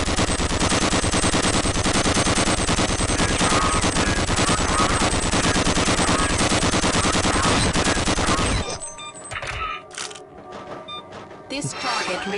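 A weapon fires nonstop at a firing range in Gunman Chronicles, a loud rapid automatic stream of shots that runs for about eight seconds and then cuts off, leaving quieter mechanical sounds.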